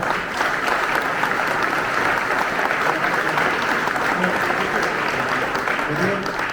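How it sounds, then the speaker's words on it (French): An audience applauds warmly at a reception for sports educators and clubs, steady dense clapping that carries on throughout at a fairly close distance. "je pense qu'on peut applaudir quand même Wardia."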